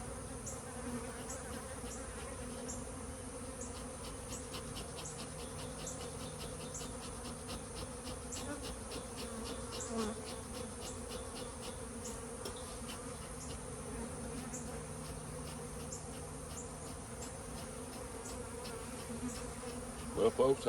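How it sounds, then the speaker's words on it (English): Bees around a nuc hive in a tree drone in a continuous, dense buzz as smoke drives them off, moderately close, with an occasional faint tap and rustle of handling near the end. "The smoke makes the bees leave, so I can kill the beetles."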